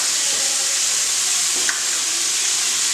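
Vegetables such as carrots, tomatoes and peppers tipped into a pot of frying chicken, a steady loud sizzle and hiss throughout with a faint brief clink partway through.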